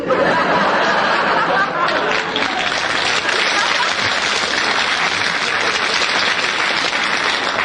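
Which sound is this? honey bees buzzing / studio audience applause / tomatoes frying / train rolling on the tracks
studio audience applause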